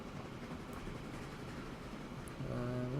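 Train in the simulation game Train Fever rolling along with a steady low rumble throughout, then a bright rising engine or horn-like tone joining near the end.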